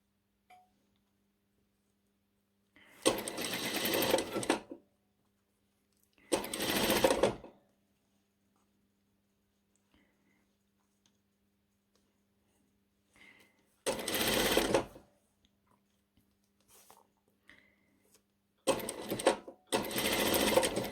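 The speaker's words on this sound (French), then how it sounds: "on pique au plus près de la dentelle" A sewing machine stitches close to lace along a gathering thread on a modified Camomille nightie, sounding in four separate bursts of one to two seconds each, with quiet pauses between them.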